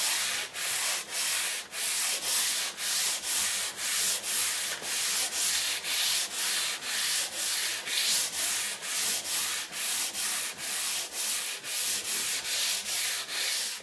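A radius block sands a guitar fretboard being prepped for refretting, giving steady rhythmic rasping strokes about twice a second, loud and close, with no talking.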